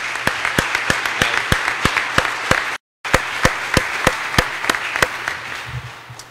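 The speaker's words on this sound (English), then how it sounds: "So please give them a round of applause as well." Audience applause at a recruit class graduation ceremony: a steady, dense wash of clapping with sharp, evenly spaced individual claps standing out, briefly cut to silence midway before resuming.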